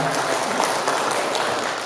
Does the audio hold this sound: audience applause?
yes